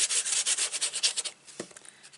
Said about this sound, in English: Give that a good rubbing.